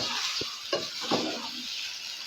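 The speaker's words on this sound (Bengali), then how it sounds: "এই যে চালটা একটু দেবে না। ভেজে নিব" Rice sizzles and fries loudly in a pan for fish pulao, with a steady close hiss broken by a few scraping stirs.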